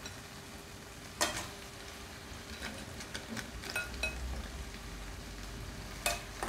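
Crab pieces drop into hot oil with ginger garlic paste for a Chettinad-style crab masala, giving a quiet, steady sizzle broken by a few sharp clinks and clatters.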